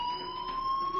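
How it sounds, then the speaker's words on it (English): A fire alarm in the game Life Is Strange sounds a steady, piercing electronic tone that holds without a break, moderately loud and slightly distant, as if heard from inside a building. "do you hear that fire alarm?"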